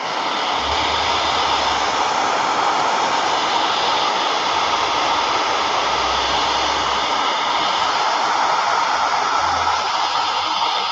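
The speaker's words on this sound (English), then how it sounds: "I am going to go ahead and just blow dry it for a few seconds." A handheld blow dryer runs steadily for several seconds, drying a stamped Christmas craft project; the airflow makes a loud, constant whooshing roar with no talking over it.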